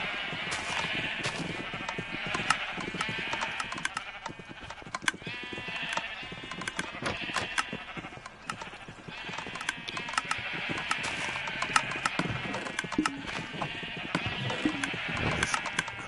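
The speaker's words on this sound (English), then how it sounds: "My automated sheep farm." Sheep on an automated farm in the Minecraft video game bleat over and over, with many overlapping cries packed densely throughout and a steady clatter of game noise underneath.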